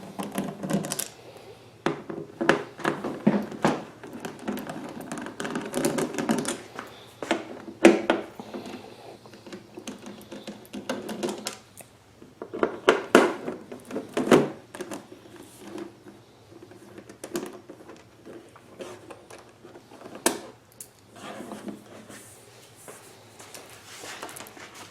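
Screws are worked loose and pulled from the back metal panel of an inverter generator. Irregular clicks, taps and rattles of a tool and metal come in bursts with quiet gaps between them, close and fairly soft, with no talk.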